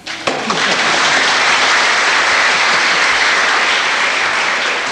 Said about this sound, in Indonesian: Ayo, boleh tepuk tangan.